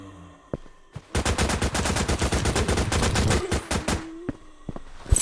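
Rapid automatic gunfire from turrets in a Minecraft-style Call of Duty Zombies game, a loud sustained burst of evenly spaced shots lasting about three seconds, with scattered single bangs before and after.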